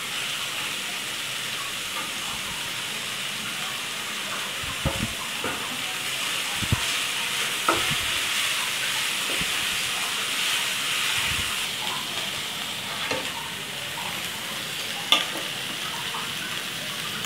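Shredded cabbage stir-frying in a hot pan for vegetable paneer spring roll filling, a steady broad sizzle and hiss throughout with occasional soft stirring knocks, close and loud, with no talk.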